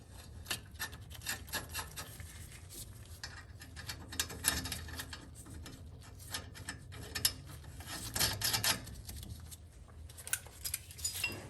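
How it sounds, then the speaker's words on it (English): A 3/4 inch wrench and socket snug nuts on the brakes of a 1941 Chevy during a disc brake upgrade, producing continuous close scraping, rubbing and soft rasping sounds with small irregular clicks. "we'll take our 3/4 inch wrench and socket. And we'll just snug everything in place first"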